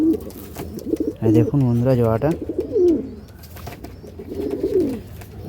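A pair of western bhura pigeons coos in soft, throaty bursts close by, with someone talking over and between the calls.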